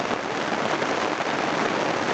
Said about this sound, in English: There's definitely rain in the air.